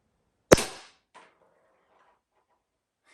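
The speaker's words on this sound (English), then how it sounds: "Okay, here we go, very first shot." A single airgun shot cracks out sharply and close, fading quickly, and a faint knock follows a moment later as the pellet lands near a distant target.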